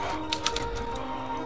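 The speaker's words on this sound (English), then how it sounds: "It has a typewriter!" A typewriter sounds in the horror video game Rotten Flesh. A few quick, sharp key clacks ring out over a steady humming game background.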